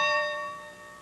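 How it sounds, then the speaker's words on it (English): A bell rung to call people to gather at an old Methodist meeting camp outside Baltimore, a single clear metallic strike with a ringing tone that fades over a second, heard alone. "The bell says it's time to gather."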